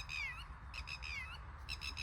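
A bird out on farmland gives two or three short, high, warbling calls in quick succession over a low rumbling background.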